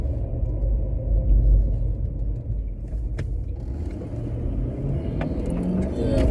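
A car cruises through light traffic, giving a steady low rumble of engine and road noise that stays loud and continuous, with a few faint mechanical clicks and no talking.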